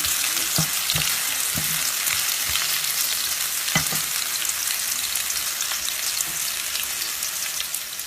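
Onions sizzle steadily in a pan for samosa mince, a dense continuous frying hiss with occasional soft stirring scrapes, close and even throughout.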